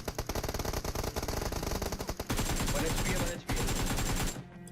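Automatic gunfire in the mobile battle-royale game BGMI: rapid, evenly spaced shots rattle for about two seconds, then a denser, louder burst follows, breaks briefly, and resumes before cutting off.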